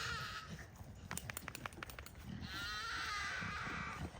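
Goats bleat loudly nearby, with a cluster of short cries mixed with scuffling and thumps, then a longer, wavering bleat that carries on to the end.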